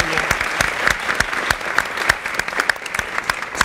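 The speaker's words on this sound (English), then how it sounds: "Can't get enough applause on that." An audience at an education summit claps enthusiastically, a dense burst of applause with sharp individual claps standing out throughout.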